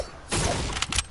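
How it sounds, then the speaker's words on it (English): Gunfire in a video game breaks out after a quiet moment: a dense burst of loud shots crackles steadily for about a second, with a few sharper cracks near the end. "I hear gunshots."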